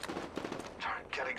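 Gunfire in the shooter game Apex Legends, rapid overlapping shots throughout the short stretch, with a voice-like tone rising over the shooting near the end.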